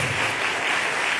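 An audience at a talk with a writer applauds in a dense, steady wash of clapping that continues without a break for about a second, with a brief voice near the start.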